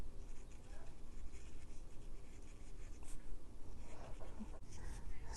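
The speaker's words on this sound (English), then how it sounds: "So I am just coloring these in." Marker pen coloring in with a light pink Flirty Flamingo shade, a continuous close scratchy scribbling of felt tip on paper with a few sharper strokes.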